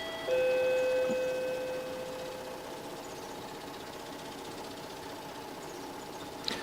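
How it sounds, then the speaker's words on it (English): A doorbell chimes inside a Tokyo home, a few sustained electronic tones ringing out at the start and fading over the first couple of seconds, followed by quiet room hum. "That was our doorbell here in Tokyo."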